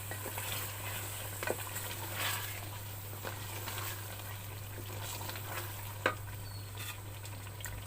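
Mutton korma with cream and garam masala is stirred in a pan, faint scraping and gentle bubbling under a constant low hum, with a couple of sharper spoon knocks.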